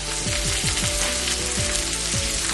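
Burger patties sizzle steadily in a hot pan, a dense continuous crackle with faint popping and a low hum beneath, close and fairly loud with no talking.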